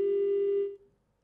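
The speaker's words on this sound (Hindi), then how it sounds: "रावत जी से हमारा संपर्क इस वक्त टूट चुका है, उन्होंने फोन रख दिया" A telephone line gives a flat electronic busy tone after a call is hung up, one steady beep lasting under a second before cutting off into silence.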